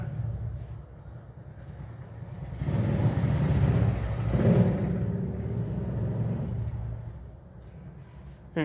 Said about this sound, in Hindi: रुक जाओ, ये बुलेट निकल जाने दो पहले